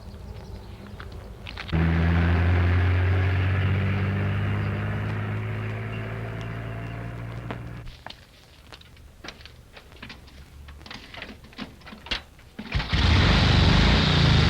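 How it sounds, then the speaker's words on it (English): An old truck loaded with gas pulls away in a 1936 crime drama: a loud, low engine drone that gradually fades, followed by scattered clatter and a burst of noise. "Now, there's a truck seems to be full of gas and is moving out."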